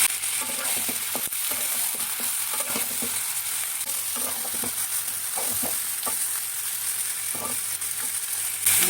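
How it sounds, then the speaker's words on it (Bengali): Mutton pieces fry with browning onions, cinnamon, cardamom, cloves, peppercorns and bay leaves, giving a steady, loud sizzle with repeated scrapes and clacks of a stirring spoon throughout, no voices. "এই দেখো মাংসগুলো আমার পেঁয়াজের সঙ্গে লাল লাল করে ভাজা হয়ে গেছে"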